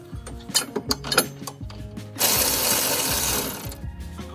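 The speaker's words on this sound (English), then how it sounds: "These little angle ratchets, Milwaukee's, are incredible." A Milwaukee cordless angle ratchet turning bolts while lifting a Polaris Ranger, several short close mechanical bursts followed by a longer sustained whirring run, loud and without talk.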